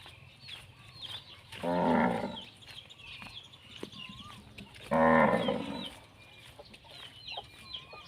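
Cows on a Thai farm, waiting to be fed straw in the morning, give two long, loud moos a few seconds apart, with roosters and hens clucking faintly in the background.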